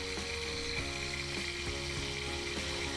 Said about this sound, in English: Here they are cooking in the oil.